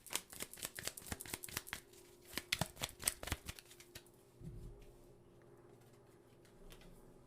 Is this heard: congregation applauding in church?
no